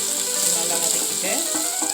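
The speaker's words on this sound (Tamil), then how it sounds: "நல்லா வதக்கிட்டு" Garlic and ginger sauté in a pan over a low flame, making a steady close sizzle with a faint voice heard underneath.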